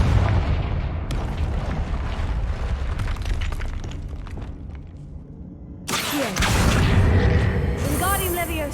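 Confringo blasting-spell explosions go off in the game Hogwarts Legacy, heard as rumbling blasts and debris over continuous game noise. A louder burst lands near the end, and a voice briefly speaks.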